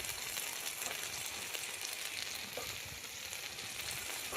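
Koi fish cooks with a spice masala, salt and turmeric in hot oil, giving an even, continuous sizzle, fairly quiet and steady throughout, with faint stirring and no voices.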